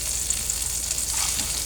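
Eggplant slices frying in mustard oil give a continuous, dense sizzle, close and steady throughout with no voices.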